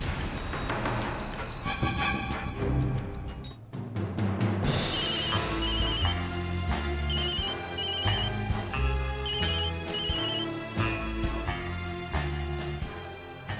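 A telephone ringing during a call in a Hindi TV drama: a repeating electronic ringtone pattern sounds over loud background music.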